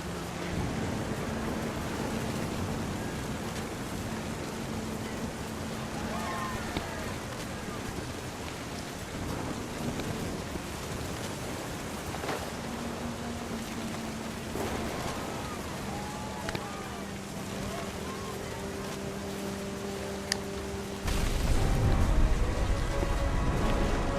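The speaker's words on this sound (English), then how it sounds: "Thunder sounded much too close and full of angry power." Steady, dense rain pours through a stormy scene in the game What Remains of Edith Finch, with faint tones underneath and a heavier, louder burst of rumbling storm noise near the end.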